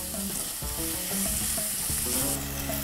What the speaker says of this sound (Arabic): غادي نخلي المكونات مع بعضها كيتشحروا مزيان